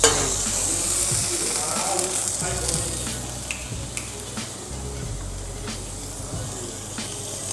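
Oil heating in a pressure cooker for veg biryani gives a continuous soft sizzle and faint hiss, close and steady, with a few small clinks.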